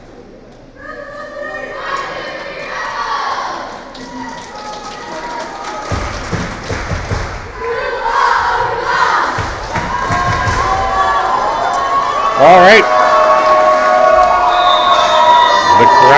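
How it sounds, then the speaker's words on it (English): A large gym crowd cheers and shouts steadily at a senior girls' volleyball regional final between Rouleau and Ogema, with a dense roar that swells over time, scattered thuds and a brief spoken word. "The crowd is active. Great turnout here for both teams. Amazing crowd support."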